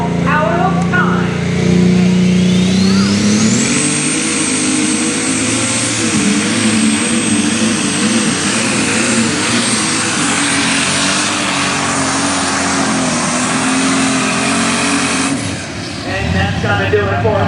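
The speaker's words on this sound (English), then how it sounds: "John Deere 8210 running the Brett Long alcohol engine." A John Deere 8210 unlimited super stock tractor with an alcohol engine roars through a pull at a tractor pulling event in Wilmington, Ohio, a loud sustained howl that rises sharply early and holds for a long stretch under an announcer's voice.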